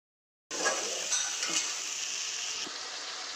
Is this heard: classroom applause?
no